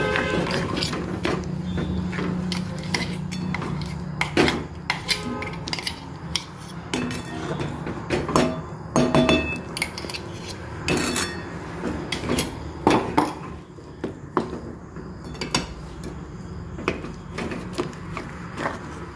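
A sweet peanut butter mixture is stirred in a pan, with repeated scraping and clinking of a utensil against metal in an irregular rhythm at close range.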